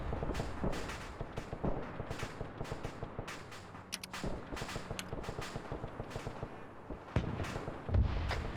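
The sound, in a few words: gunfire from a mounted gun in a Korean War video game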